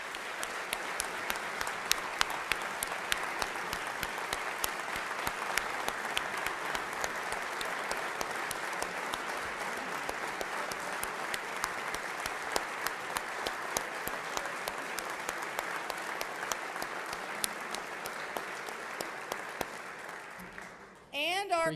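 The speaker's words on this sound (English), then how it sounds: "He deserves a round of applause for that." An audience at the Oklahoma State of the State address gives sustained applause for the governor's husband, the state's first gentleman. The clapping is dense and even and lasts about twenty seconds before it cuts off.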